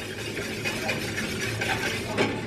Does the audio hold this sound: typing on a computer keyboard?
no